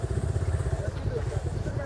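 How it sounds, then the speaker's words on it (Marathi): Motorcycle riding on the way up to the Amboli waterfalls in rainy weather, a steady close engine drone with rapid low pulsing throughout, with no talk. "आता आम्ही बाईक घेऊन चाललो आहे"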